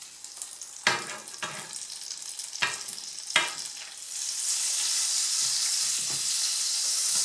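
Butter melting in a frying pan over gentle heat while making a sauce, a steady sizzle and hiss building up, with a few sharp clinks and stirring knocks early on and no talking.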